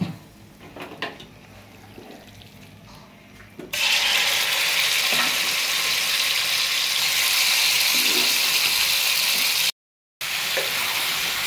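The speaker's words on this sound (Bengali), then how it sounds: "প্যান গরম হয়ে গিয়েছে, এখন আমি তেল দিব। তেলে এটাকে একটু ভাজা ভাজা করে নেব।" Beef tripe hits hot oil in a pan. A few quiet clinks come first, then a sudden loud, sustained hiss of frying continues steadily, with one brief dropout near the end.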